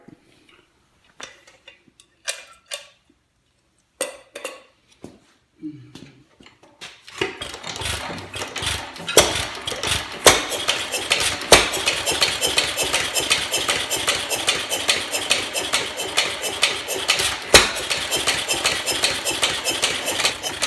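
A Lauson Frost King Jr. 1-1/2 HP stationary engine is cranked over with a few scattered chuffs, then fires and settles into a steady, rapid ticking run that continues loud and close to the end.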